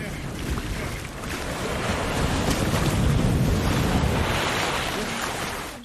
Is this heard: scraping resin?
no